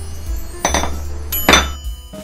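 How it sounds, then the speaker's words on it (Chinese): Lid of a CB Japan COPAN 2.5 L ceramic-coated waterless cooking pot holding pork curry rice being lifted off, giving two or three close, sharp clinks and knocks against the rim, with no voices. "来开锅上菜"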